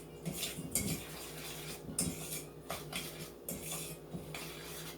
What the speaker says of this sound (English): we're going to dry mix that in again